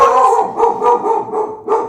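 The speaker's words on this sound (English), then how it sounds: "I apologize for the dogs." Dogs barking nearby indoors, a loud run of repeated sharp barks in quick irregular bursts, with no talk over them.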